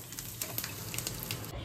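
Garlic and green chilies frying in a pan, a steady close sizzle with crackling pops and a few brief stirring scrapes.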